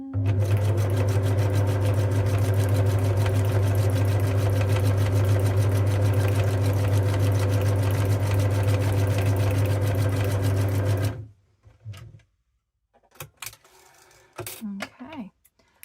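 A sewing machine stitches fabric journaling cards in a steady, loud, continuous whir that runs unbroken for about eleven seconds and then stops, leaving a few quiet handling clicks and rustles.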